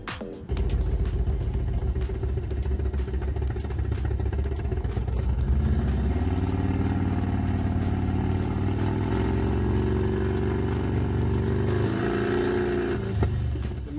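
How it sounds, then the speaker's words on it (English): A big 1800cc V-twin motorcycle engine in a racing video game drones steadily and loudly, its low rumbling tone shifting pitch as it revs and eases off, heard alone with no talking. "You can even choose a bike if you would like. Say a 1800cc V-twin."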